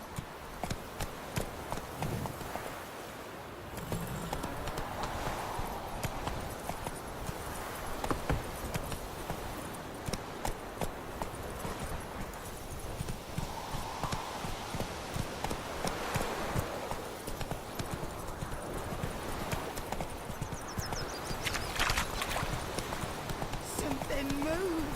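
Roach the horse gallops in The Witcher 3 with rapid, steady clip-clop hoofbeats that stay loud and continuous throughout.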